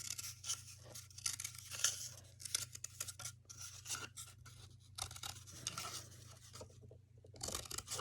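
Scissors snipping small slots into a cardboard toilet paper roll, a string of quiet crisp cuts and scrapes up close over a low steady hum.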